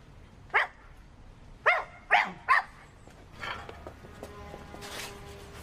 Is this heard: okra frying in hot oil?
no